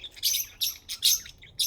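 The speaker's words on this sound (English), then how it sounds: "So now I'm vlogging about the birds and Shadow." Pet birds chirp indoors in short bright bursts, four or five quick tweets spaced about half a second apart, close and clear with nothing else underneath.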